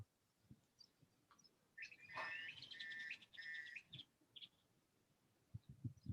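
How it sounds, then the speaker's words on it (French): Birds chirp outdoors in a quiet garden, a few bright trilling phrases near the middle with scattered short chirps around them, moderately close and alone. "On entend les oiseaux, c'est génial, hein."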